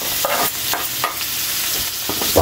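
Garlic frying in melted butter with a little cooking oil, for a shrimp dish, gives a steady close sizzle with stirring scrapes throughout.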